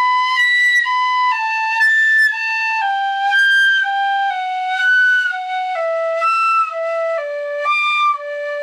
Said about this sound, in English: this is a lovely Boxwood whistle made by Simon Styles of Weston Whistles